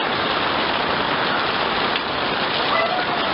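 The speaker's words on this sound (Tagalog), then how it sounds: "So ako dito sa gitna ng ulan." Heavy rain pouring down outdoors in a sudden downpour, a dense, loud, constant hiss of water on surfaces with no voices.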